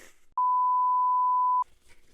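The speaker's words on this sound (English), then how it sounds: "just show like a black screen with a super obnoxious beep" A single steady, pure electronic beep lasting over a second, loud and clean, briefly cutting off the quiet talk around it.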